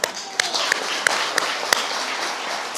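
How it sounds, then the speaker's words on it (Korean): Steady crowd applause at a Buddhist temple Dharma assembly, with a dense wash of many hands clapping, a few sharper claps standing out, fairly loud and continuous throughout. "박수."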